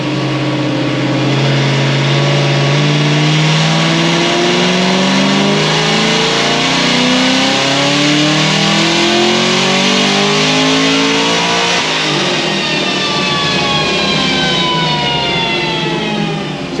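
A procharged race car engine pulls hard under load, its deep tone climbing steadily in pitch, then drops on an upshift near the end and climbs again. Loud, close and continuous, with no voices.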